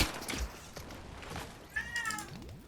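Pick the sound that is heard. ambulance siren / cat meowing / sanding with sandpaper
cat meowing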